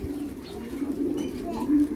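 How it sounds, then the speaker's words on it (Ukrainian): Low, rolling cooing of many pigeons nesting at a monastery, close by and continuous, with a few faint background sounds. "Голубів багато."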